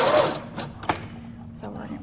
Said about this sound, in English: Our sewing machine missed it by just a little bit